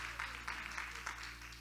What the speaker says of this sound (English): Can we clap our hands and thank the Lord for the Pools?